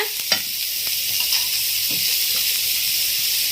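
Onions sautéing in a hot pan give a steady, close sizzle and hiss, broken by occasional light scrapes of stirring, with no voices.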